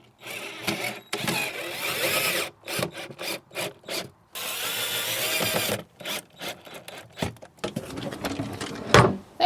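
A power drill whirs in repeated bursts of varying length as drywall screws are driven into a wooden nightstand, separated by short pauses, with a few knocks and handling clicks near the end.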